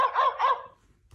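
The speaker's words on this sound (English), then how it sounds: "Dog." A dog gives two quick, sharp barks close by, followed by a short quiet tail, with no one talking.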